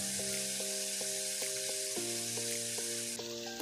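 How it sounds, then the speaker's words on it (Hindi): Boneless chicken fries in a pan with a loud, steady sizzle. A repeating tonal beep pattern runs through the sizzle. "अब हम इसमें 300 ग्राम बोनलेस चिकन शामिल कर देंगे और सफ़ेद होने तक इसको फ्राई करेंगे।"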